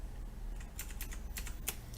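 Typing on a computer keyboard while coding for stepper motors with CircuitPython and Arduino: a few quiet, close keystrokes in an irregular cluster over a low background hum, with no talking.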